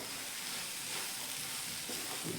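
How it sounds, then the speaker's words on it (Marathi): A steady, quiet sizzle and soft scraping of a pan as crushed peanuts are stirred into hadga flower bhaji, continuous with no talk. "आता याच्यात आपण थोडं शेंगदाण्याचं कूट आपण जे करून घेतलंय ते घालून घेऊयात. मिक्स करून घेऊयात."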